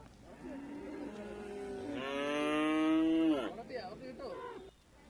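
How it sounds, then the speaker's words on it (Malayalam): At a livestock market holding large bulls and buffaloes, one animal gives a long, loud, rising moo close by, over a low background murmur. "നല്ല സൈസുള്ള കാളകളും പോത്തുകളും ഒക്കെ ഇവിടെയൊക്കെ നിൽപ്പുണ്ട്"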